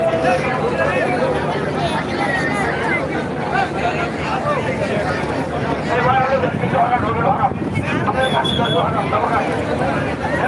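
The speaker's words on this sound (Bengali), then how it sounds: "লঞ্চ ঘাট করলো সেই কালীগঞ্জে আমরা দেখছি যে সিঁড়ি নামাচ্ছে" Passenger launch docking at a river ghat at Kaliganj in Bangladesh during Eid travel: a steady rumble of engine and water under wind noise, with a crowd's babble and someone talking throughout.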